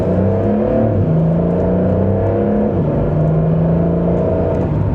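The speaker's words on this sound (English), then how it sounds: "We'll give it a small acceleration." Porsche 911 Carrera GTS engine pulling through a gentle acceleration in manual mode, a steady loud interior drone with rising tones and smooth, barely noticeable gear shifts, no talking.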